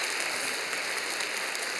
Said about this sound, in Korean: 크게 박수로 환영하시지요.